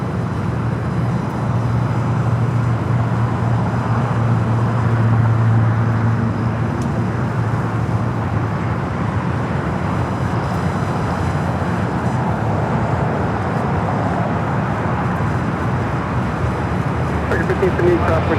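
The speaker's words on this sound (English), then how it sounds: "A350-1000 heading back to Doha. Now rolling down to 25 right." An Airbus A350-1000 airliner bound for Doha taxis toward runway 25 right at Los Angeles International Airport, giving a continuous low engine rumble and whine that stays steady at a distance, mixed with roadway traffic noise.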